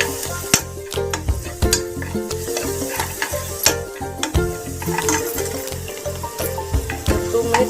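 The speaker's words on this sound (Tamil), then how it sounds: "போட்டு அதையும் நல்லா நம்ம வதக்கிக்கிறோம்." Onions and tomatoes sizzle in a hot pan while a spoon repeatedly stirs and scrapes, with rhythmic knocks against the metal and no talking.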